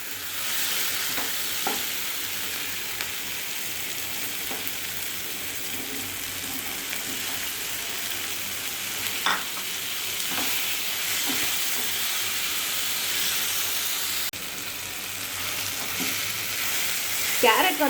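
Chopped carrots sauté in a hot pan for a murthaba filling, a steady loud sizzle and hiss running throughout with occasional stirring scrapes and clicks.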